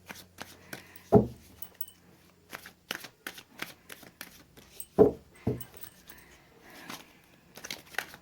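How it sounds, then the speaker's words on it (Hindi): Tarot cards being shuffled by hand in an indoor reading, a quiet run of riffling taps and slaps with two sharper bursts of cards striking together, the rhythm uneven and close, with no voices. "मैंने कर लिए कार्ड्स की सफलिंग"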